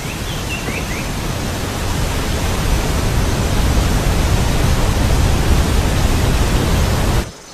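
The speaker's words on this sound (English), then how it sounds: "They include some of the country's most spectacular waterfalls." A waterfall in the Western Ghats roars as a loud, unbroken wash of falling water, steady and dense for several seconds before cutting off abruptly.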